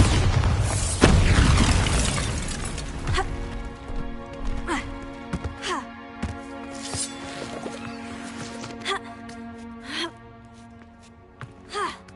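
A Bombarda spell explosion in Hogwarts Legacy goes off with a loud, sudden boom, followed by scattered smaller pops and clatters over a sustained tone.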